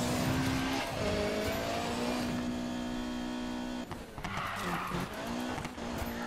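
A car drifts in Need for Speed Payback on PS4 Pro. A long, loud tire squeal rides over a high-revving engine, its pitch wavering as the slide continues, then briefly breaks off and picks up again.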